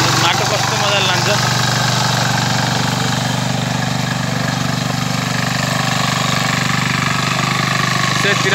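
A 173F diesel mini tiller runs hard while churning through soil, a loud, steady mechanical engine drone with a continuous low rumble and no break across the whole stretch.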